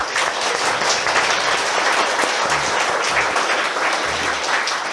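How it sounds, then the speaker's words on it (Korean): A congregation at a church seminar claps together in steady, full applause that stays loud and even from start to finish, with no talking over it. "우리 먼저 박수 한번 주세요"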